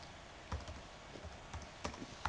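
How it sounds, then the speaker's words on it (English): Typing on a computer keyboard, a few scattered key clicks at moderate distance, quiet and sparse with short pauses between strokes, no talking. "we'll type here the story"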